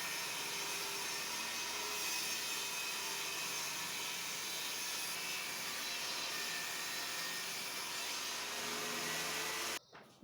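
A table saw roars loudly and continuously while cutting wooden strips to 7 cm width, a dense whirring drone that holds steady for nearly ten seconds before cutting off abruptly.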